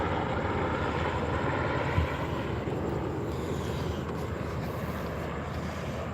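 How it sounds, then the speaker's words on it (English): A helicopter flies somewhere in the night sky, a steady, broad engine and rotor drone that stays fairly loud and continuous throughout, with no voices. "And we got helicopter. Somewhere in the night sky."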